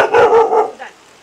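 An Akita Inu dog gives a quick run of loud, close barks indoors, three or four sharp yaps in about a second, followed by a fainter trailing bark.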